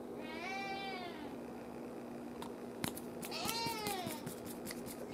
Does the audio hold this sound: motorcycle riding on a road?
no